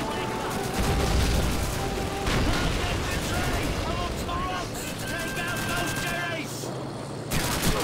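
Gunfire from a Call of Duty 2 battle mission, a dense, continuous clatter of rifle and machine-gun shots with blasts across the whole stretch, and someone talking over it.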